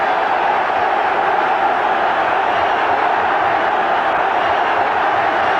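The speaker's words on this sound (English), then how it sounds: "The applause for Viv Anderson" Loud, steady roar of a large football stadium crowd at an Arsenal v Spurs match, a continuous wash of applause and cheering with no breaks.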